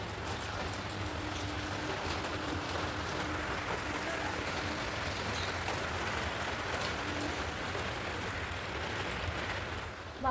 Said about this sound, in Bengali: এই দেখো কেমন বৃষ্টি পড়ছে,